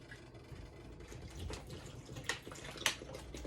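Water poured from two 500 ml plastic bottles into a blender for a green smoothie, a steady faint pouring and splashing stream with small gurgles, no talking.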